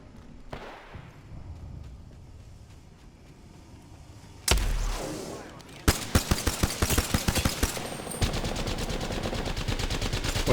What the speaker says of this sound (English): One thing you'll notice too there is that he's firing a Havoc